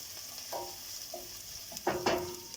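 Food sautéing in a pan for a home-style okra dish: a soft background sizzle with occasional utensil scrapes, growing into a busier burst of stirring near the end. No one speaks.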